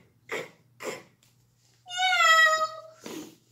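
A cat gives one clear, drawn-out meow, loud and close, between short bursts of a voice speaking before and after it.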